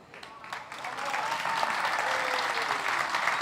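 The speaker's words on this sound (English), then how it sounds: "a huge round of applause" Audience applause at the Gourmet Guide Awards 2026, a dense clapping that swells quickly from a light start into sustained, fairly distant applause filling the room.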